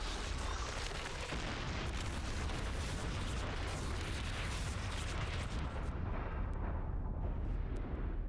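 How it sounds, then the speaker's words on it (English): A planet is destroyed by Superman in Superman & Lois, heard as a loud, dense roaring rumble that holds steady for about eight seconds before thinning out at the end, with no talking over it. "And that was when Superman destroyed the planet."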